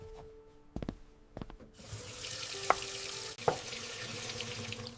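Carrots being washed in a kitchen sink: after a few clicks and knocks, a tap opens and water runs in a steady, close rush, with a couple of clunks of vegetables against the basin.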